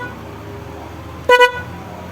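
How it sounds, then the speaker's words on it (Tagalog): A PIAA car horn mounted high on a car, tested with a single short, bright two-tone honk lasting a fraction of a second, loud and close against a quiet idle background. "Ito nga pala yung Pia horn."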